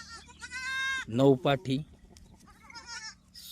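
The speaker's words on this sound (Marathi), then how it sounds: "गावरान उस्मानाबादी मिक्स शेळ्या" Osmanabadi mixed-breed country goats on a farm let out several loud, wavering bleats close by, one long call followed by shorter cries and a fainter bleat later, with a voice briefly heard.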